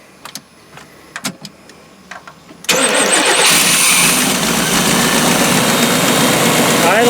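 A 1992 Chevrolet P30 RV with a 454 TBI V8, repaired after a no-spark, no-fuel-pressure fault, cranks and catches at once, then holds a loud, steady, close-up idle. Before the start there are faint clicks and handling noises.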